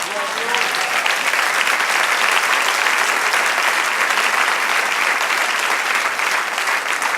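Church congregation applauding together in a continuous, dense wash of clapping that holds at a steady loud level for several seconds, with faint voices mixed in.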